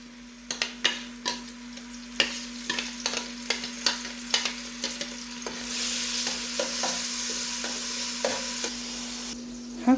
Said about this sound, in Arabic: هنزل عليهم بقى هنا بالبصل ياخد تشويحة كده بالشكل ده